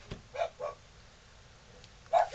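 A French Bulldog barks close by in short sharp bursts, two quick barks then a pause before two more, with quiet room background between them.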